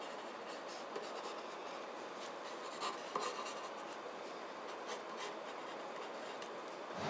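Blue mechanical pencil scratching and rubbing across paper while an artist sketches a landscape scene: continuous soft, close strokes with brief louder scrapes.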